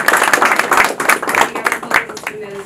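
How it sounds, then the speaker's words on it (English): Audience applause at a ceremony handing over a general coordination role, a steady patter of clapping heard close and loud, mixed with voices talking over it throughout. "let's give a round of applause to Michelle."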